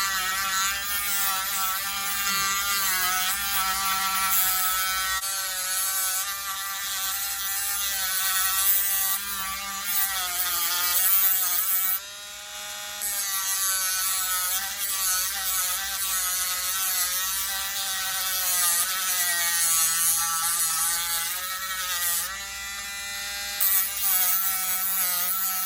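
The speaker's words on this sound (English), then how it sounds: "I just take a Dremel, make sure I don't Dremel through my wire." Dremel rotary tool grinding out a plastic servo mount for a rock crawler build, a steady high-pitched whine with wavering pitch that runs almost continuously, pausing briefly twice before resuming.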